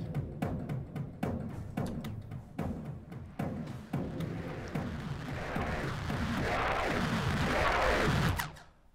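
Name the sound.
swelling synth riser effect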